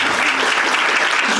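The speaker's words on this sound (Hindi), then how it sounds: "फिर ताली बजाएंगे।" A roomful of people applauds at a Brahma Kumaris class in Gwalior, a thick, even burst of clapping close by and filling the whole moment.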